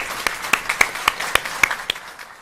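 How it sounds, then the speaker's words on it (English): Scattered claps ring out in a loose, uneven rhythm, a small group applauding sparsely in a courtroom, with no talking. "I think we give a round of applause to the people who've served our country."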